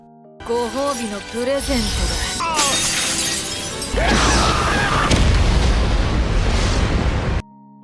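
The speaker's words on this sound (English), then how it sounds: "The battle between these two ended with a big bang." A big explosion ends an anime magic battle: after vocal shouts, a loud shattering burst and roaring blast rumble on for several seconds, then cut off abruptly.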